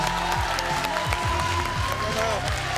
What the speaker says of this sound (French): Ils sont là, ils sont là, on les applaudit.